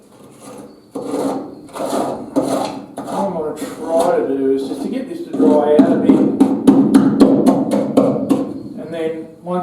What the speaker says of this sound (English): I'm just going to have a bit of a chip around with my chipping hammer